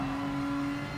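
A race car in GT Sport drives at full throttle through a cone-marked practice course. The engine gives a steady, loud, close drone with a strong held tone for the whole brief moment.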